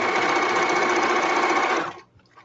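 A sewing machine runs steadily for about two seconds, stitching zigzag and a short back stitch with a fast, even mechanical whir, then stops abruptly; close and clear with no talking.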